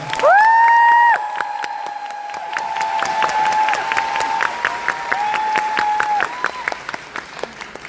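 Audience applause for the cast and crew at the curtain call of a Korean show musical, Dream High, in a theater, with a loud burst of cheering and whoops at first, then steady clapping throughout, and a sustained musical chord under it.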